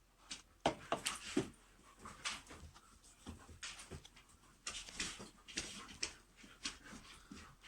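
Several dogs whimper, pant and yip in bursts nearby during a crowded group leather-craft session making a knife sheath, with soft background noise between the sounds.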